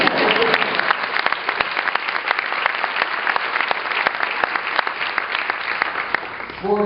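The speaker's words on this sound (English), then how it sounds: "Yeah, you can clap." An audience at a clinical excellence award ceremony claps steadily and densely for the full stretch, with a voice briefly starting at the very end.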